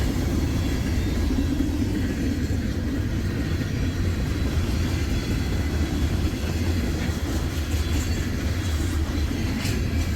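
A loaded crude oil freight train rolls past on a wintry day in Sandusky and Avery, Ohio, with a steady, continuous heavy rumble and faint clickety-clack of wagons throughout, close and loud, with no talking.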